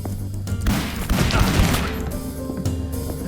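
Gunfire in the video game This Strange Realm of Mine: a dense, loud burst of rapid shots with booming crashes, building to a roar in the middle and then easing, with no talking.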